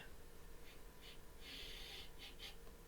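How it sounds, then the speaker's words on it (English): Someone takes several short, quiet sniffs at a drink, a few quick inhalations followed by one longer draw, close and soft with no speech. "Let's have a little sniff."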